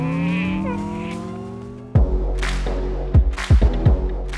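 MG Cyberster electric sports car on a launch from standstill: a rising electric motor whine with stacked tones gives way to a loud surge of drive noise, followed by several sharp bursts of tyre and road roar close by.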